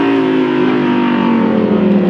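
A Lamborghini Huracan STO engine under heavy throttle gives a loud, steady, close-up drone with a deep, continuous note and no breaks.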